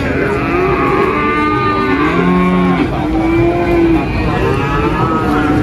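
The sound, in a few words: Limousin and Simmental cattle arriving at livestock market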